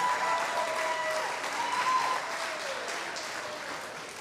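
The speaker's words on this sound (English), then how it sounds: "Let's clap for him one more time." An audience at a senior school arts showcase applauds, a steady wash of clapping that holds strong, then gradually thins and fades toward the end.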